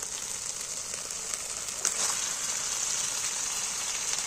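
Chicken pieces dropped into hot masala in a pan for shahi chicken kasha, giving a steady close hiss of sizzling oil with a small crackling burst near the middle, no voices.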